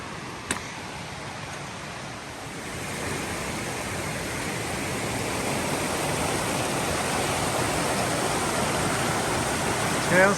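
A creek flows beside a backcountry trail on a thru-hike, its broadband rushing water close and loud, with a steady wash that grows slightly louder as it continues.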